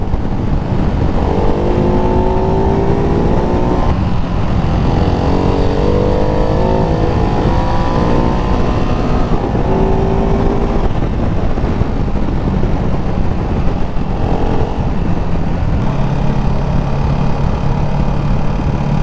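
A Ducati Hypermotard 698 Mono single-cylinder motorcycle on a test ride, its engine loud and close, revving up repeatedly through rising pulls and dropping back between them for nearly twenty seconds.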